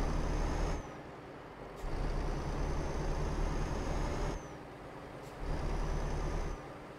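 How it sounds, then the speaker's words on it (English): Volvo truck engine in Euro Truck Simulator 2, a steady low droning rumble that rises and falls in level, with brief hissing breaks like air brakes or gear shifts between sustained stretches; no talking. "Truck sounds like a beast, but way more quiet than the other one."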